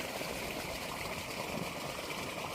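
Water gushes steadily out of a pumped pipe from a shallow well, making a continuous close splashing rush that holds an even level throughout with no voices over it.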